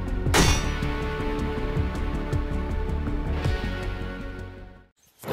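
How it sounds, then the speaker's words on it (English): A crowbar pickaxe strikes in a video game, with two sharp metallic clangs about three seconds apart over a dense, steady bed of game sound that drops to near silence at the very end. "This is the sound of the pickaxe in game."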